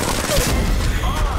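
Dense gunfire in Apex Legends Mobile, a continuous loud volley of overlapping shots and impacts close by, packed with crackling bursts and no pauses.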